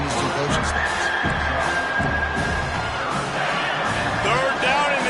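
A stadium crowd at a football game roars steadily in a dense, continuous wall of cheering and whistles, loud throughout, with a commentator's voice running over it.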